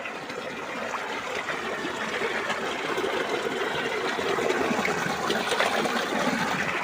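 Rainwater runs steadily after heavy rain, a continuous broad rushing flow that stays loud and even from start to end, with no voices over it.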